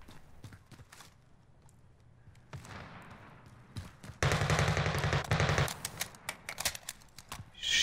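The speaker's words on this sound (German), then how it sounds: "Die schießen auf irgendwas." Bursts of automatic gunfire in the Call of Duty Warzone video game, scattered shots at first, then a loud sustained burst followed by rapid single cracks, without talk.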